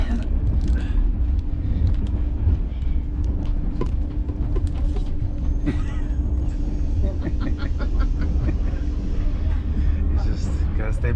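Steady low rumble and clatter of a Greek Intercity passenger train bound for Thessaloniki, heard from inside the carriage, with continuous rolling noise, faint squeaks and passengers talking over it throughout.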